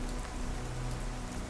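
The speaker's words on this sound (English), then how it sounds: "you step out into the downpour, moving swiftly to avoid the puddles" Heavy rain pours down in a steady, dense hiss of drops hitting the ground, with no voices or other sounds over it.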